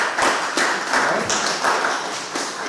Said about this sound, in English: So give yourselves a big round of applause for coming.